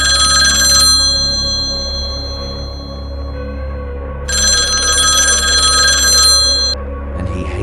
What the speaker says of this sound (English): Soon after, the telephone rang.